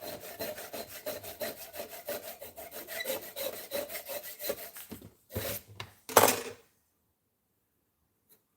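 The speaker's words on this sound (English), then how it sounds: "I'm just going to run that saw down a couple of times" A hand saw works through a custom pick held in a workshop vise, with rhythmic, close back-and-forth strokes for about five seconds, then a couple of clattering knocks before silence.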